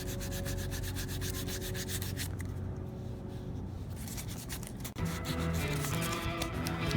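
Sandpaper rubbed by hand with heavy pressure over a badly scuffed leather shoe, a steady close rasping scrub in quick strokes that eases off briefly midway, then resumes.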